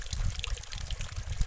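Water pours into a cup folded from a leaf for drinking outdoors on a farm, a brief steady splashing trickle that sounds close and fairly soft.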